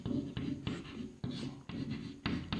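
Chalk taps and scrapes out an equation on a classroom board in short bursts of strokes, close and clear, with no talk.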